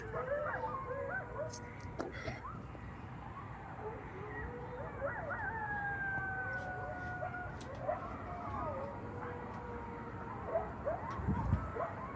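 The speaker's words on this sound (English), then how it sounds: "There's some howling I recorded." Drawn-out, wavering howls ring out in woodland, attributed to a Sasquatch, faint and distant over a steady background hiss, with a few sharper calls and a brief thump near the end.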